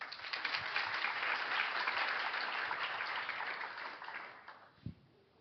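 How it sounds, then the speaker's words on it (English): An audience at an Asia-Pacific ADR conference session claps to welcome the co-moderators, a steady, fairly loud wash of applause that tapers off near the end with a single sharp knock. "please welcome them with a big round of applause"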